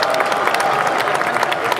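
Festival crowd at an outdoor music event clapping and cheering, a dense, continuous wash of applause that stays loud and steady.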